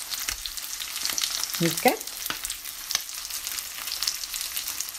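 A steak frying in butter with salt and pepper, giving a steady close sizzle throughout, with a brief spoken word and a few clicks over the crackle.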